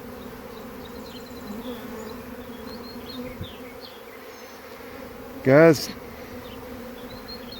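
Honey bees buzz steadily around an open hive during an inspection, a continuous droning hum with individual bees passing close, and one sharp nearby buzz swelling near the end; someone speaks one brief word.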